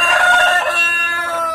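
A guinea fowl gives a loud, harsh, sustained call at close range, a single raspy outburst with no talk over it.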